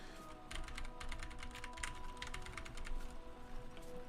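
Typing on an old computer keyboard: a steady stream of fast clicky keystrokes, moderately close, over a constant low hum with no talking.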